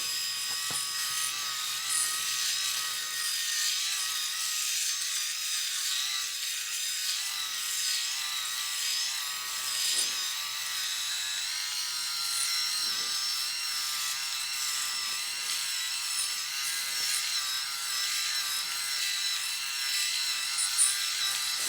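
A Kensen Bald 7D electric head shaver with flexible rotary heads runs on an arm, a steady high-pitched motor whine held close and continuous, with faint scraping variations as it moves over the skin.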